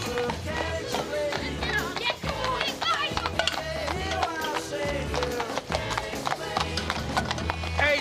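Horses' hooves clip-clop in a steady patter, partly buried beneath loud music, while voices talk over the scene.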